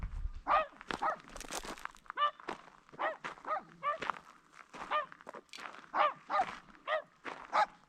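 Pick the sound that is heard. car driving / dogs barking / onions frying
dogs barking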